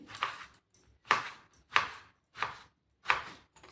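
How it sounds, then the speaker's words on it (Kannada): Knife chopping two tomatoes into thick pieces on a board for a Malnad-style colocasia leaf curry, five crisp, evenly spaced chops, close and clear, with no talk. "ಎರಡು ಟೊಮೊಟೊ ಹಾಕ್ತೀನಿ ದಪ್ಪ ದಪ್ಪ ಇಟ್ಕೊಬೋದು ಇಷ್ಟು ದಪ್ಪ ಹಿಂಗೆ ಹೆಚ್ಚು ಹಾಕ್ಕೊತೀನಿ"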